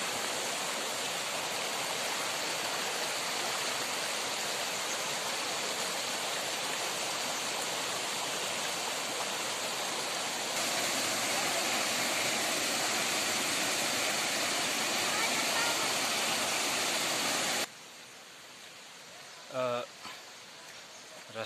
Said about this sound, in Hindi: काफ़ी अच्छा झरना था